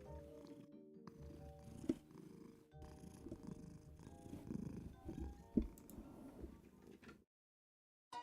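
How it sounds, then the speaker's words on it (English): A domestic cat purring right beside the microphone, a steady close rumble that continues for most of the stretch and then stops near the end. "purring right next to the mic"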